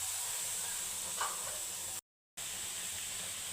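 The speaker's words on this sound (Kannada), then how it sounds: "ಲಾಸ್ಟಲ್ಲಿ ಟೊಮೊಟೊ ಫ್ರೈ ಮಾಡ್ಕೊತಾ ಇದ್ದೀನಿ" Tomatoes frying in a pan, a soft, steady hiss and sizzle at moderate level, broken by a brief dropout in the middle, with no voices.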